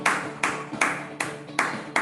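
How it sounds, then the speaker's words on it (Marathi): Steady hand claps at a self-love wellness gathering, about six crisp claps in an even rhythm, close and fairly loud, with no talking over them. "स्वतःला क्लॅप करा."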